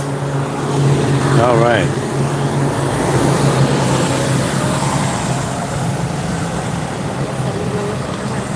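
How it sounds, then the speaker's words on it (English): A loud city bus passes on a busy street, its steady engine rumble and road roar filling the whole stretch, near and constant with a brief whine, while a person says a couple of words. "I'm going to let this loud bus go by."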